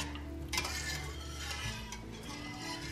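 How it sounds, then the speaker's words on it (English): Sauce whisked in a pot on the stove, brought toward a boil to keep out lumps: a quiet, continuous rustle of whisk strokes with faint metallic clinks against the pot, close and without speech. "Just keep whisking."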